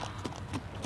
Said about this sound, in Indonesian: ternyata ada suara kereta kuda yang didengar oleh Filipus.